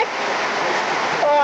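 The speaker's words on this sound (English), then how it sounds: "you can see a lot of rain pouring onto my back deck" Heavy rain pours onto a back deck as a dense, constant rushing hiss, loud and close, running without a break through the short stretch.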